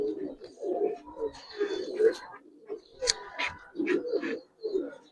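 High-flyer Budapest pigeons coo in soft, throaty rolling bursts at a loft, close and repeated, mixed with fainter bird chirps and a little background talk.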